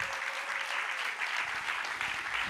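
Audience at a colloquium applauding, a sustained, even wash of many hands clapping at moderate volume, steady throughout with no one speaking over it.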